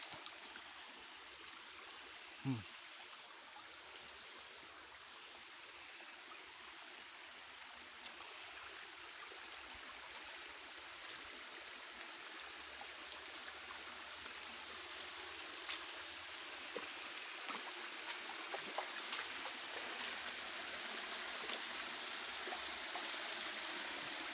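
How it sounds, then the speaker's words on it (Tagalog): A small outdoor stream flows in a soft, continuous trickle, heard faint and fairly distant with a few light splashes and clicks scattered through it. "Oh, sapa."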